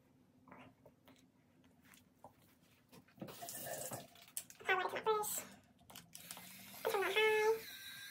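A bathroom tap runs water for use with a face cleanser, a soft splashing flow that starts partway through and comes in quiet bursts, with faint handling noises and brief vocal sounds around it.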